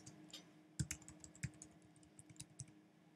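Someone types a password on a computer keyboard: a run of close, crisp key clicks at an irregular pace, with a few sharper strokes standing out in an otherwise quiet room.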